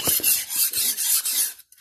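A knife blade drawn across the fine side of an Indian-brand whetstone gives repeated dry rasping strokes in a steady back-and-forth rhythm, close and fairly loud, with no voices.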